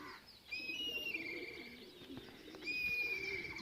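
Several birds coo and call together in a zoo enclosure, with soft low cooing under sustained higher whistling tones, steady and fairly close, with no talking.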